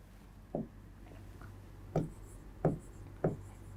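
A pen writes by hand on paper during a blood and circulatory system science lesson, giving four faint, short scratchy strokes spaced apart against a quiet room hum.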